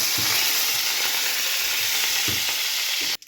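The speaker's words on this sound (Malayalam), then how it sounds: "കടുക് പൊട്ടി കഴിഞ്ഞിട്ട് നമുക്ക് അതിലേക്ക് നമ്മുടെ കറിവേപ്പില, പിന്നെ പച്ചമുളക് ഒന്ന് വഴറ്റിയെടുക്കാം." Curry leaves and green chillies sautéing in oil with mustard seeds give a steady, close sizzle and hiss, broken by a few soft stirring knocks of a spoon in the pan.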